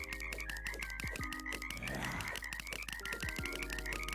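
Croaking frog in Terraria, a clear ribbit-like call rising in the middle of the clip over continuous game music, no voices present.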